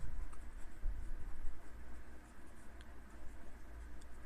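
Pen writing an answer on paper during a class 10 maths lesson on quadratic equations, soft continuous scratching strokes close by, faint and alone without talk.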